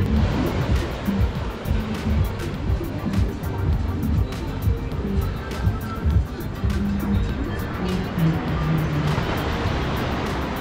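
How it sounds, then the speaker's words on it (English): Ocean surf rolling onto a beach at night as the tide comes in at Guanacaste, Costa Rica, a loud continuous wash with repeated surges and no pause. "The waves too are getting bigger and bigger as the night goes on, as the tide comes in"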